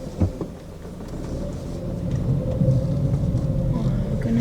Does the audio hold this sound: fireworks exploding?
no